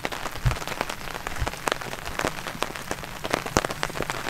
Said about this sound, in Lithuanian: Pyla, lietus